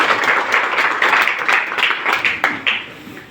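Crowd applause at a village gathering in Nandi, Saharanpur, honouring a Padma Shri awardee: a rhythmic, loosely synchronized clapping with distinct sharp claps, fading toward the end.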